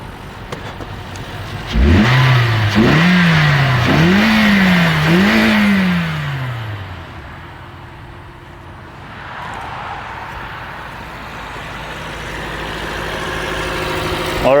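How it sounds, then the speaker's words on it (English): A repaired Toyota Corolla, once a crank-no-start fault, revs up hard in a few rising and falling blips before settling back toward idle, loud and close, with no talk over it. "I'm gonna rev up the engine."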